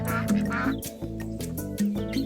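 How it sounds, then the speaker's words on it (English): Ducks quack in RollerCoaster Tycoon 3, flying in formation over a park scene: a loud run of nasal quacks over steady game music. "but they sound like ducks"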